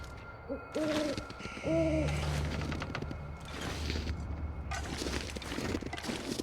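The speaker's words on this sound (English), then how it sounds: "I don't like that noise that keeps happening. I think it's a bird." Owl hoots sound in a snowy wilderness in The Long Dark video game, two soft paired calls in the early seconds over wind and background ambience, followed by footsteps crunching through snow.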